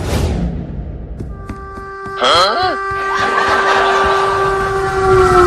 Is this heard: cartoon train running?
yes